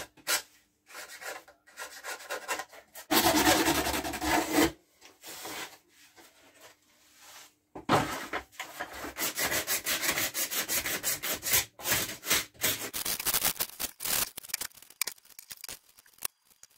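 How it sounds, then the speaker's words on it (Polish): A fret saw and small file work on the wooden wing of a model plane, giving bursts of dry scraping and rasping strokes separated by pauses, close and fairly loud, with no talk. "Wszystko piłka włosowa i pilniczek."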